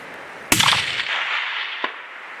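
One loud, sharp rifle shot fired at a Himalayan bull tahr about 250 yards away, cracking out and rolling off in a long echo, followed by a fainter short crack; no talking.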